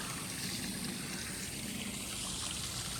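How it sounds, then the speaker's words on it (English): A backyard pool waterfall pours a steady, continuous trickle and splash of water close by, a constant wash of sound with no talking. "And then the waterfall."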